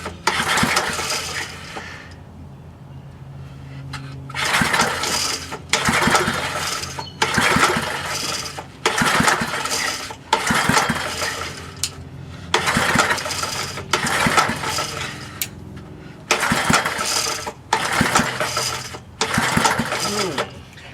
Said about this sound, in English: Probably going to take a few pulls to get some gas in the engine.